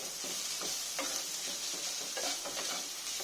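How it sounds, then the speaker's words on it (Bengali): Snake gourd, pointed gourd and fish are stirred in a sizzling pan, with soft scraping strokes repeating over a steady quiet fry and no talking. "একটু ভালো করে আমি সময় ধরে একটু নেড়ে নেব।"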